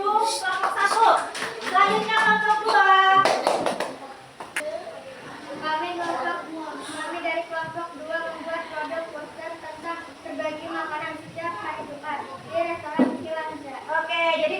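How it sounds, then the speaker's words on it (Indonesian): A classroom of children gives a brief round of hand clapping near the start, then a teacher and pupils talk over faint background chatter. "Kita beri tepuk tangan"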